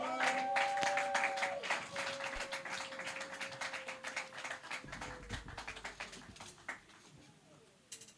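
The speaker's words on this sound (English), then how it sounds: "Please keep your round of applause coming" Audience applause for an alto saxophonist at a jazz show, a scattered patter of claps that starts under a sustained sax note and thins out, moderately distant, with some talk mixed in.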